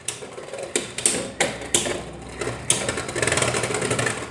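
Fake YCF-brand Beyblade X tops spin and collide in a stadium, with a series of sharp clacking hits at irregular intervals followed by a continuous rattling, grinding scrape as the tops keep spinning.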